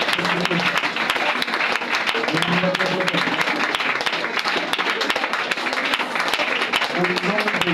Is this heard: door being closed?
no